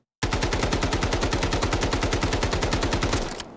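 Rapid automatic gunfire from a weapon hip-fired in the video game Delta Force, a steady, fast, evenly spaced burst of loud shots running for about three seconds and then cutting off, with no talk over it.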